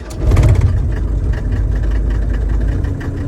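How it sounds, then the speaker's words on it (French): A car engine fires up and settles into a steady, loud low rumble at idle, the vehicle being checked for a brake problem with a stiff pedal; no one speaks over it. "Là, je vais démarrer le moteur"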